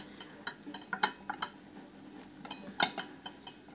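Deep soup plates, bought as holiday shopping, are handled and set down. They give a series of light clinks and taps at an uneven pace, close and fairly quiet.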